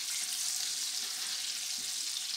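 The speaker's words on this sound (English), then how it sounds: "The fire is on a low heat because I don't want my onion to get burnt." Onion frying in a pot over low heat gives a steady, soft, hissing sizzle, faint and even throughout with no talk.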